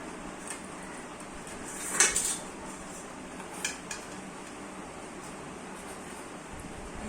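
Rice being served onto plates at a home Sunday lunch, with a couple of brief light clinks of dishes and cutlery over a quiet, steady background hiss.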